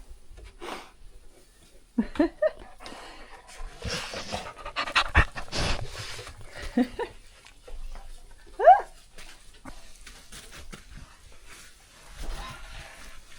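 Dogs pant softly and rapidly nearby on a small patch of artificial green grass at an off-grid outdoor kitchen, with a few whimpers and brief moments of talk.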